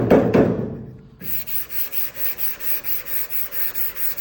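Sandpaper worked by hand across a car body panel for repair gives steady back-and-forth rasping strokes, close and fairly soft, repeating at an even rhythm after a short pause.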